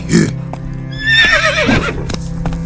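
A video-game horse whinnies with a long, quavering neigh over a steady background hum, with some hoof clops and faint voices around it.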